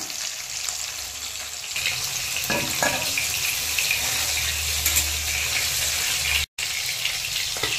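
Rohu fish frying lightly in oil for mango pickle curry, a steady close sizzle and hiss running throughout with a momentary cut near the end, no talking.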